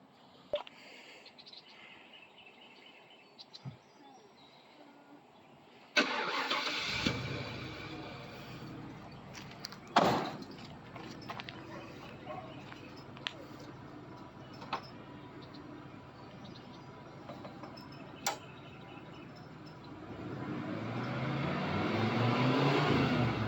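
A light derby project truck sits outside, quiet at first, then its engine catches abruptly and runs with sharp revving bursts, a closer louder surge building near the end.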